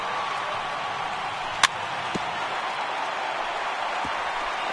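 A video-game baseball stadium crowd of over 39,000 roars in a steady, dense wash of cheering with two strikes down to the final out, broken by a few brief sharp knocks.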